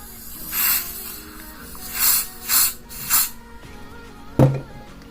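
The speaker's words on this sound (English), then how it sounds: "Now I'm going to add my my melting spray, and I'm using this CSR." A wig melting spray hisses out in several short aerosol bursts in a steady rhythm, followed by one sharp click or knock near the end; close and moderately loud, with no voices.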